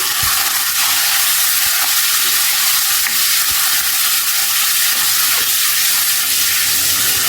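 Small cubes of boneless chicken fry loudly in a pan, a dense and steady sizzle with an occasional stir. No one speaks.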